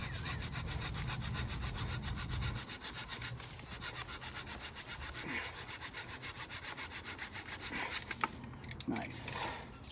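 A hand saw cuts through moringa tree branches during pruning, with rapid rhythmic back-and-forth strokes that stay close and fairly loud, then a few scattered rustles and knocks near the end.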